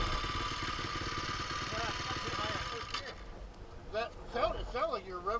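A motorcycle engine revs and idles with a steady low rumble for the first half, then fades under close conversation as people talk.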